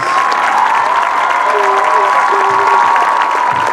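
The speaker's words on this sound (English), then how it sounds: "Let's give them one more round of applause." Audience applause at an evening stadium event honoring families, sustained clapping from a large crowd heard at a distance and steady throughout.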